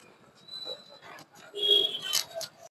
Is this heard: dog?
yes